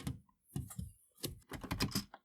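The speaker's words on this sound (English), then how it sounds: "I'm just going to keep cumulatively typing this in." Fingers tap on a Commodore 64 computer keyboard in quick, uneven clusters of close, crisp key presses with brief pauses between bursts.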